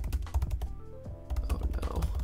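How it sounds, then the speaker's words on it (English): Fast typing on a 2020 MacBook Air keyboard during a typing test, a dense run of close, crisp key clicks in uneven bursts with a short lull midway. "Let's do a typing test, first of all, because I want to talk more about this keyboard."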